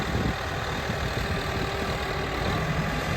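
A New Holland B75B backhoe loader with a 4-speed transmission runs while moving, its engine giving a steady, loud, close diesel drone that holds level throughout with no other sounds.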